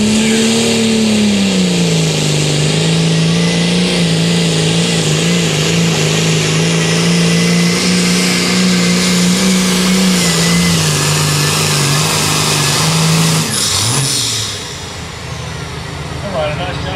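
The Green Beaver, a John Deere 60-30 pulling tractor, holds a loud, sustained engine drone near its limit during a tractor pull, its pitch sagging slightly before it cuts off near the end, with an announcer talking over it.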